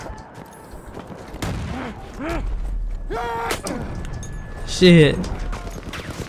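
Scattered gunfire from a Battlefield 1 multiplayer match: a few sharp shots and bursts spread out through the clip, mixed with a player's frequent talk and a brief curse.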